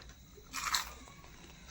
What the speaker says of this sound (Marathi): पाहिलं का कुरुम कुरुम आवाज